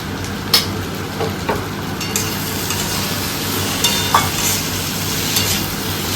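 Potato and eggplant fry in a pan after a spice tempering, giving a constant close sizzle broken by a few sharp scrapes and knocks of stirring. No one speaks.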